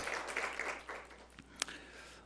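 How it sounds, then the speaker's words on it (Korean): Welcoming applause from a church congregation greeting a visiting pastor, fairly faint and uneven clapping in a room with a few louder individual claps and some murmuring mixed in. "우리 박수로 환영하겠습니다"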